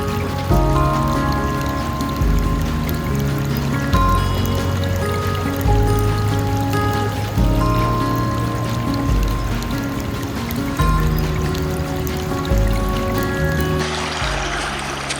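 Steady rushing and trickling creek water flows continuously, fairly loud and close, with a broad splashing texture throughout, near Portal, Arizona.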